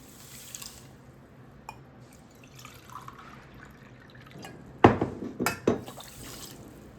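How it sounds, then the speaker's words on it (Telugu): Water is poured into a pan to make sugar syrup for gulab jamun: a quiet stretch of faint drips, then a short burst of splashing, trickling pours close by. "వన్ 3/4 కప్పే వాటర్ కూడా తీసుకుంటున్నాను."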